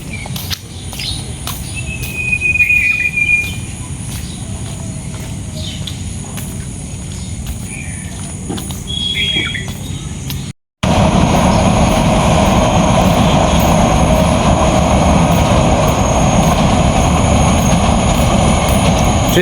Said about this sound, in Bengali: ট্রেন চলে যাইতেছে, খুব দ্রুত গতিতে গেছে।